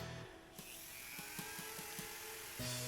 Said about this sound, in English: I go in with the cutoff tool of the Dremel tool and take that end off